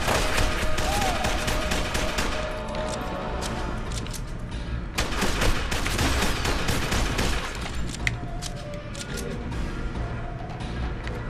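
Sustained gunfire fills a firefight in the shooter game F.E.A.R. 2, with dense overlapping bursts and sharp shots throughout, loud and close, with brief louder volleys midway.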